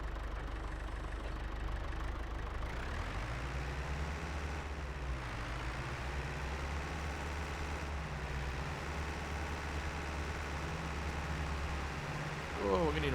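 A small tractor engine in Farming Simulator 22 runs steadily in a low, droning idle, with the pitch shifting slightly as it works; the hum continues unbroken throughout at moderate level.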